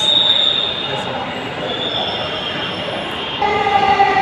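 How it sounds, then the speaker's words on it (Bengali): A metro rail train pulls into a station platform, its wheels squealing in high sustained tones over a loud, steady rumble that swells again near the end; no one speaks. "এই তো ভিউয়ার্স, ট্রেন এসে পড়েছে।"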